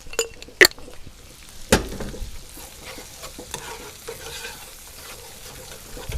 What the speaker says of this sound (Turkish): Böyle salçamızı burada kavurup öyle koyacağım